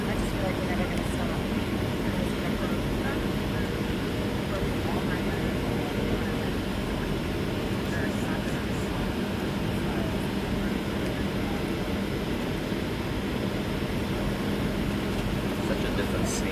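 Cabin of a Southwest 737 landing at Newark, filled with a steady, loud broadband roar of engines and airflow, while a person talks under the noise.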